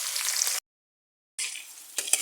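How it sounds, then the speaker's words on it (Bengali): Chopped onions frying in a pan on a village kitchen stove for a lentil and chicken dish, a steady hiss of sizzling with stirring scrapes, cut by a short silent gap before the frying resumes. "এই পেঁয়াজ কুচিগুলো দিয়ে দিচ্ছি, দিয়ে লাল লাল করে ভেজে নেব"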